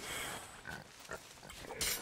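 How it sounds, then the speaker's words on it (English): A pig in the pirate game Sea of Thieves gives a few short, close grunting oinks over a steady game ambience, with a sharper burst near the end. "it's time to get some pig."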